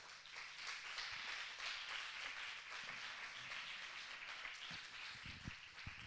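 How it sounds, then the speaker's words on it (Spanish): Faint, steady applause from a church congregation at a distance, a continuous patter of many hands clapping with a few sharper claps near the end. "Dale un aplauso al Señor por eso."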